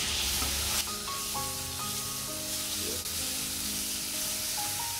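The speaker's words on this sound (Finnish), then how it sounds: "laitetaan ne tuonne pannulle paistumaan." Chicken strips sizzle and fry in a pan, a steady close hiss running the whole time alone, with faint tonal ringing in the background.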